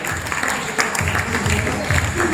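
Audience at a network marketing meeting applauding, a dense spread of clapping that continues steadily under a voice speaking over it.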